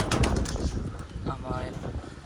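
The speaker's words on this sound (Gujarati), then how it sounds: "આવી રીતે આપણા કબૂતર છે" Pigeons coo inside a loft that holds nests and eggs, their soft throaty calls sitting close under a person talking over them.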